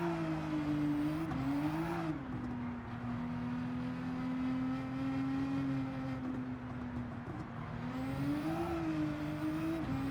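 An LMP2 race car engine at Bathurst in Gran Turismo 7, droning with a steady high whine that rises and dips as it shifts and accelerates, continuous and prominent throughout.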